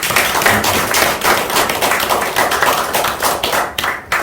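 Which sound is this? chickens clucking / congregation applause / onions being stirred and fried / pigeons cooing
congregation applause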